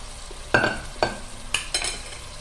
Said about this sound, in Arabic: غادي نقليهم في شويه تاع الزيت، قد ما تتبان لي البصله نزيد لها الفلفله والطماطم